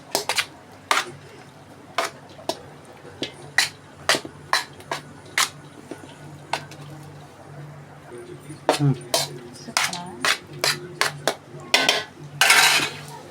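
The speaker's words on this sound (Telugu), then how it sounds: "ఇట్లా ముద్దలు లేకుండా కలుపుకోండి" Tamarind rice being stirred in a pot, with irregular metallic clinks and scrapes of a spoon against the vessel, sparse at first and then quicker and denser toward the end.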